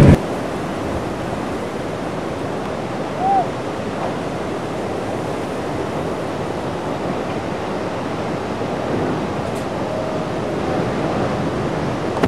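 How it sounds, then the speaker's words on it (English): Ocean surf rolls in at the Balangan surf spot in Bali as a steady, loud wash of waves with some wind noise on the microphone, continuous throughout with no speech. "The surf spot right there. Yeah. Lots of waves."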